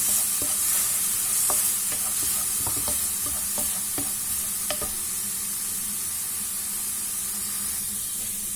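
Onion fries with a little salt in a pan, a steady close sizzle broken by scattered clicks of stirring, with no voices.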